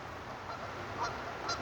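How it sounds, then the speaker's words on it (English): Geese honk a few times, faint and some distance off, over a quiet outdoor background. "It's the geese."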